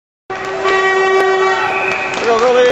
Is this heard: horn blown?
yes